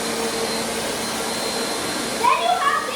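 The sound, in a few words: Bissell vacuum cleaner switched on and running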